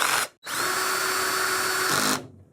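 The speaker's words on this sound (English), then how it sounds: "if you're using a drill, be sure to use a drill with a clutch" A power drill runs as it drives fasteners into the legs of a Hisense U8H Mini LED television stand: a short spin, a brief pause, then a steady, loud, close whine lasting nearly two seconds before stopping.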